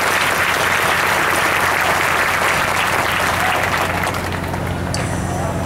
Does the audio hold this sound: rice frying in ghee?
no